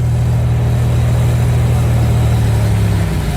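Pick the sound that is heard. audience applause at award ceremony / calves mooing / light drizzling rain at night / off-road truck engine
off-road truck engine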